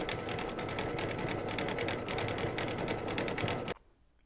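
Sewing machine stitching a brick red chimney on a mug rug, a steady fast close mechanical whirr with rhythmic needle ticks that stops abruptly near the end.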